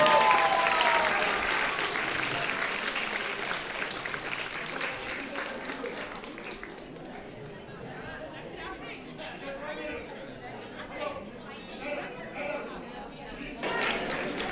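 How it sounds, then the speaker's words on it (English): An audience at a community fundraiser applauds seniors after a cultural dress performance, sustained clapping that starts loud and gradually softens, mixed with crowd chatter and voices talking throughout. "A big round of applause, please."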